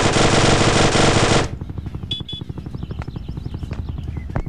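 A loud, dense burst of rapid automatic gunfire for over a second, then scattered shots, clinks and mechanical effects, with no talking.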